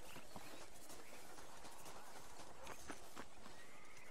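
Horse hooves clip-clop steadily at a walking pace in a Wild West video game, close and clear over faint background ambience, with a brief whinny-like sound and no talking.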